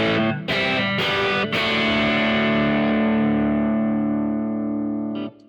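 Distorted electric guitar through a Rift Amplification EL34 pedal with the gain raised: a few strummed chords ring out into a long, thick sustained chord, loud and close, then stop.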